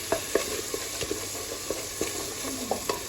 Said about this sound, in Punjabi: ਲਓ ਜੀ ਟਮਾਟਰ ਪਿਆਜ਼ ਭੁੰਨ ਲਿਆ ਆ